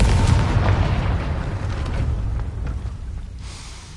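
A Confringo fire-blasting spell in Hogwarts Legacy goes off as a loud, close explosive boom with a rumbling burst that fades out over a few seconds, and no voices are heard.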